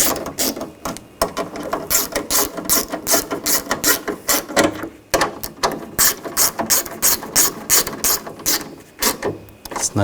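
A hand ratchet snugs down bolts on a 2000-2006 BMW X5 front window regulator, rapid bursts of sharp clicking in quick repeated strokes, close and loud, with short pauses between runs.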